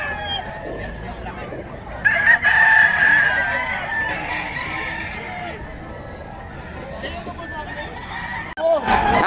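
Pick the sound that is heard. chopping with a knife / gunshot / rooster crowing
rooster crowing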